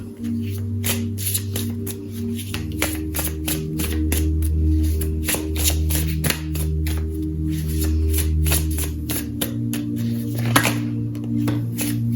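Oracle cards are shuffled by hand, a rapid run of crisp riffling flutters and taps that repeat in uneven bursts up close, with no voices.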